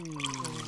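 A little water is poured onto a compost heap, a short soft splashing trickle over a steady tonal hum.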